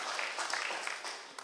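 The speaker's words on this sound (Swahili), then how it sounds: "Tumpigie makofi tondu e guku" Church congregation at an ACK service clapping together in a brief, fairly faint burst of rapid, scattered applause that pulses unevenly and then tapers off.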